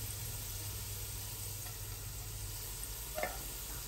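Onions fry in hot oil over a high flame, a steady low sizzle with a faint background hum and one brief stir near the end, no speech.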